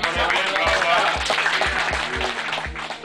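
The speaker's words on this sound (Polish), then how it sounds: "Brawa przede wszystkim, panowie, brawa." Dense crowd applause at a Polish competition ceremony, steady broadband clapping for three seconds, with a host's voice and rhythmic low thumps running through it.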